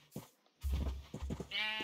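Sheep bleats from a Minecraft-style video game, with a short bleat early and a louder, sustained tonal bleat near the end over low background rumble and game noise.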